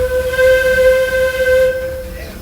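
The Disneyland Railroad steam train, engine C.K. Holliday, rolls along its track with a steady, close rumble and a long sustained whistle tone held throughout, easing off near the end.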